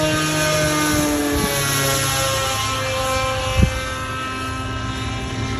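A small RC RQ-7 Shadow model plane with a pusher propeller flies past, a steady high-pitched buzzing drone with harmonic whine, close and loud, with one brief thump midway.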